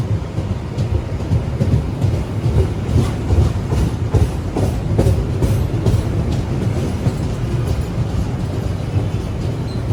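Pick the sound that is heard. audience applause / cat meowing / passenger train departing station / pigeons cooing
passenger train departing station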